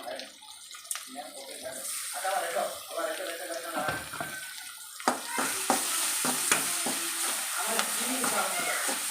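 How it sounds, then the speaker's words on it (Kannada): Wet ground masala for okra sambar goes into the tempering oil, starting with quiet scrapes and stirring, then breaking into a louder bubbling sizzle with repeated clatter of a spoon against the pot. "ಇವಾಗ ಈ ಮಸಾಲನ ಒಗ್ಗರಣೆಗೆ ಹಾಕೋಬೇಕು"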